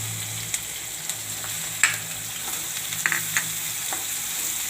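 Onion frying in hot oil tempered with cumin, chillies and spices for a Gujarati carrot and pea curry, giving a steady close sizzle with scattered sharp crackles and pops and occasional faint stirring scrapes.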